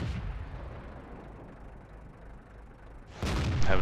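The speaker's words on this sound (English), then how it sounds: "start taking snipe shots at him" Tank cannon fire in World of Tanks: a muffled, distant-sounding boom opens, followed by low rumbling, then a sharp loud gunshot blast near the end.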